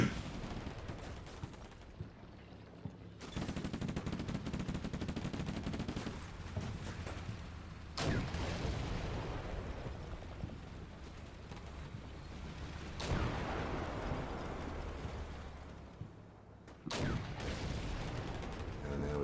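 Heavy gunfire and booming explosions fill a village battle in Combat Mission Black Sea, with Javelin teams firing from buildings. The din is dense and continuous, with several loud sudden bursts over a low rumble.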